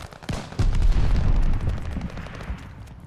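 Gunfire in Call of Duty: Vanguard, with a fast burst of shots merging into rumbling booms, loud and close, then tapering off with a last shot.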